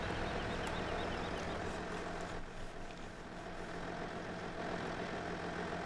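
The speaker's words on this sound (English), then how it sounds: "jump back into the New Holland tractor." New Holland tractor engine in Farming Simulator 2017 idles and rumbles steadily, with a low-heavy drone and a brief dip midway before it settles back to an even running tone.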